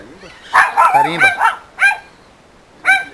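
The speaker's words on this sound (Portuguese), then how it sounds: "Cão bravo." A fierce dog on a farm barks close by, a burst of several quick barks followed by two more separated single barks, loud and clear with no talking.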